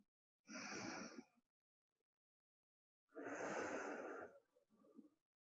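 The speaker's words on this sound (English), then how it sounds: "those of us in Sweden are inhaling through the left and exhaling through the right" Alternate-nostril pranayama breathing during a gentle hatha yoga session, two slow close breaths through the nose, an inhale then an exhale, separated by quiet.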